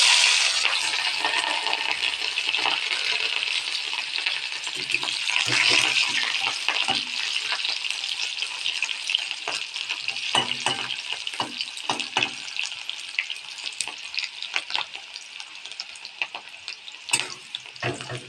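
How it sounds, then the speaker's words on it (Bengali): Chopped green chili and onion hit hot cooking oil already seasoned with five-spice, giving a loud, continuous close-up sizzle with crackling pops and clinks throughout, and no talk over it. "এবার ঝাল আর পেঁয়াজটা দিয়ে দেবো"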